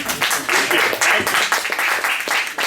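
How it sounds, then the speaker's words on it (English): Audience applause at a live event in San Francisco: a dense, crackling burst of clapping with voices mixed in, steady for nearly three seconds. "Another round of applause for that."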